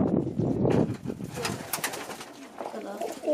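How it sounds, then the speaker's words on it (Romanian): Pigeons, including roller pigeons, coo in an aviary with several pairs. Their low throaty calls repeat close by, with some faint voices mixed in. "Văd mulți rotați aici, mai multe perechi."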